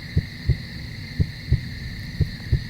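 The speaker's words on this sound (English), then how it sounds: "I hear that heartbeats. Is that my heart?" Heartbeat sound effect in a scary camping video game: a steady paired thump-thump repeating about every two-thirds of a second, low and soft over a constant electronic hum.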